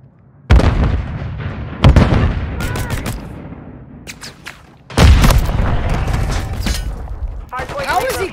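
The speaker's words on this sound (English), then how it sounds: "Throwing grenade!" Explosions and gunfire in Call of Duty: Modern Warfare 3 during an assault rifle match: sharp, loud blasts land in separate bursts with ringing tails between them, and brief game voice callouts are heard.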